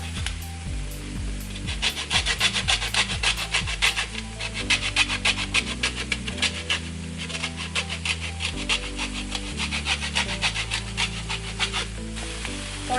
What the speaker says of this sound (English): Now I'm going to zest some lemon on here.